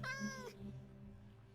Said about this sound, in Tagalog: Ano yan, pusa. Pusa lang pala eh.